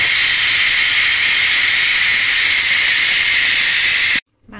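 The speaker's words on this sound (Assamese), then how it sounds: "সেইটো কাৰণে মই ইয়াত 2টা চিটি লগাম মাংসখিনিত।" A pressure cooker cooking pork lets out a loud, continuous steam hiss for about four seconds, close by, then stops abruptly.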